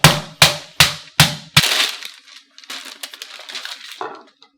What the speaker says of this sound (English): I don't have a tenderizer, so I'm just going to use a glass.